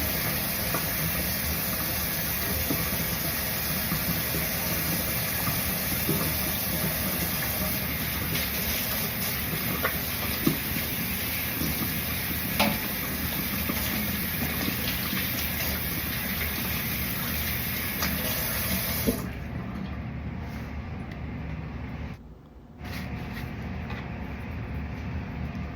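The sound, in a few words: hands being washed under running tap water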